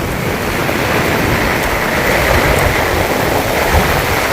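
After a storm, floodwater pours off farm fields across a village road in a loud, broad, unbroken rush of flowing water, close by and steady throughout with no voices.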